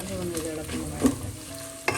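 Small shallots sautéing in hot coconut oil with dried chilli and curry leaves for a pepper fish dish, a close steady sizzle with a few sharp clinks and scrapes of the ladle stirring the pan, no voices.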